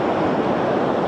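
Surf breaking on a wild Scottish beach makes a continuous broadband roar, loud and steady, with wind noise mixed in and no voices.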